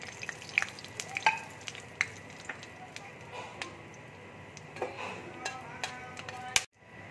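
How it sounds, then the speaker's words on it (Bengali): Whole garam masala and bay leaves fry in browned sugar and oil for a vegetarian potato and cauliflower curry, a soft, quiet sizzle punctuated by sharp clicks and clinks of a utensil against the pan. "আমি গোটা গরম মশলা দিয়ে দিচ্ছি, তেজপাতা দিয়ে দিচ্ছি।"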